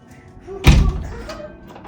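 A door slams shut with one heavy thud followed by a brief rattling decay, close and loud against a quiet room.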